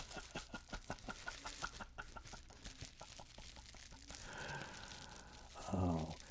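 A chicken clucks in a quick rhythmic series of short pulses at close range, followed by a louder, drawn-out squawk near the end, with faint room noise and some rustling in the background.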